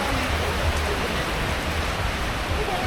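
Heavy rain pours steadily over an open market in Tasikmalaya, a dense, constant hiss with low rumbling spatter filling the whole stretch at close range.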